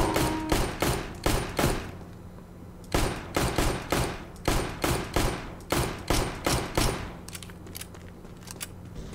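Rapid gunfire from Counter-Strike: Global Offensive, loud sharp shots fired in quick volleys with brief pauses, the shooting running almost continuously.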